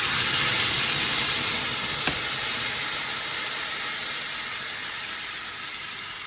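A very hot pan hisses loudly as cooking broth is poured in to deglaze it, a dense steady sizzle that starts strong and slowly eases, with a faint clink partway through.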